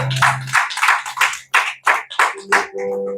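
A church congregation claps in acclaim for the word of God, delivering a quick run of sharp, loud, close handclaps in an uneven rhythm that ends with a sustained tone.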